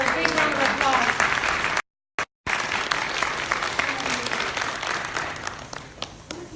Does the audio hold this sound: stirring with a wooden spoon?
no